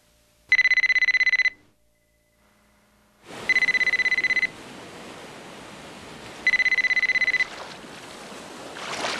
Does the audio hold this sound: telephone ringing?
yes